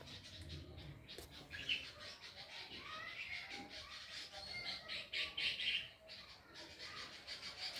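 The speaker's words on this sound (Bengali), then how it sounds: "সুন্দর পাখির আওয়াজ" Several birds call in a home garden, a mix of chirps, squawks and possible cooing that rises and falls across the stretch, with a louder burst of calls midway and steady outdoor background throughout.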